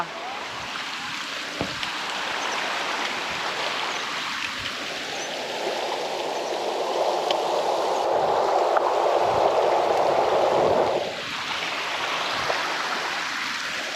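Steady rushing of a mountain stream in Balda Canyon, heard close by, swelling louder midway before easing back, with no voices.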